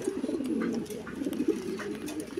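Fancy pigeons, including Lahori king pigeons kept for sale, coo in soft repeated throaty phrases close by, several birds overlapping.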